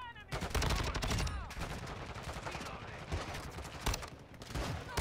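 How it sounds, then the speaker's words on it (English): Rapid gunfire bursts in Call of Duty: Modern Warfare II multiplayer, dense overlapping shots and fusillades running almost continuously, loud and close, with occasional louder cracks and faint talk underneath. "I'm out here shooting our own teammates."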